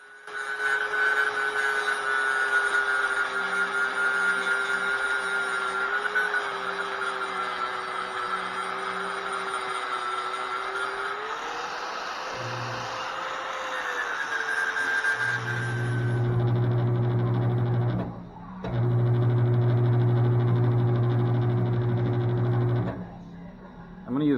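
A flap wheel on a power tool grinds silicone off a wide Harley motorcycle wheel with a loud, continuous whine that shifts in pitch, then drops into a lower steady hum broken by a short pause near the end.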